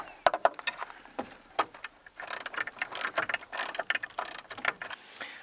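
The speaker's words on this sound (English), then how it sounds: "once you've got the horn installed nice and tight, and you've tightened all those bolts" A hand ratchet tightens the horn bracket bolts on a Sprinter van, rapid clicking pawl bursts in uneven runs, close and fairly loud, with no talk.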